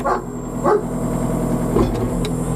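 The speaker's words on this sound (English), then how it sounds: "There's the dog. The doggo." Dog barking outdoors near an idling excavator, three or four sharp barks spaced apart over a steady low engine drone.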